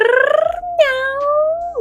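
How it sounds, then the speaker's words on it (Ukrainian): A white cat meows twice in close succession, loud and near, with drawn-out falling cries and no talk over them. "Раптом звідкись прийшла біла кицька. Мяу,"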